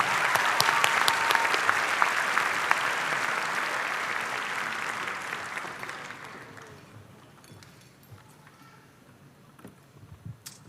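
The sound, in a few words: applause for the sponsors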